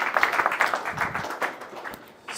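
Meetup audience applauding, a dense, fairly loud patter of many hands that gradually thins and fades toward the end.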